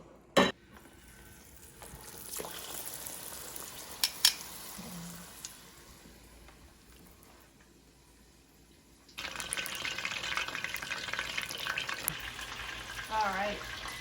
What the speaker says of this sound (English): I'm going to deep fry these for 8 minutes